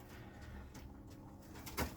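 Azeri and Iranian pigeons coo softly in a quiet loft, with a faint low murmur and one brief louder flutter near the end.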